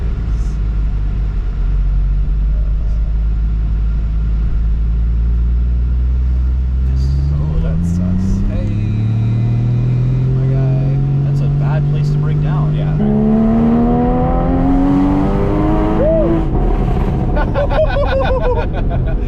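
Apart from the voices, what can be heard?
sports car engine revving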